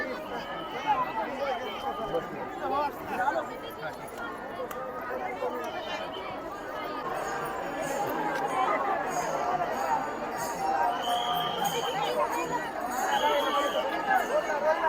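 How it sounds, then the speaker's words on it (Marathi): A large crowd mills around at a temple festival with padukas and a chariot, producing dense, steady chatter and babble of many voices throughout, a few nearer voices rising above the hubbub. "खूप गर्दी आहे आज."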